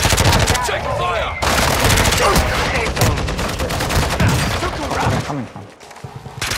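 Dense, sustained gunfire in the Call of Duty Warzone 2.0 video game, with rapid automatic bursts and loud shots running almost continuously, mixed with game effects and a voice speaking over the fight.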